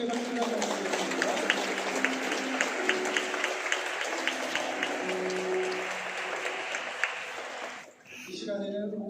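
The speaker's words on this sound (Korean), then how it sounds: "우리 다 함께 축복의 박수를 한번 드리겠습니다." Church congregation at a Sunday service in South Korea giving a round of blessing applause for a birthday, steady dense clapping for several seconds, then a voice begins speaking.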